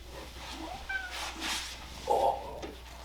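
A cat meows a few times while walking around on a table in a home sewing room, the short calls fairly close and moderately loud over quiet room tone.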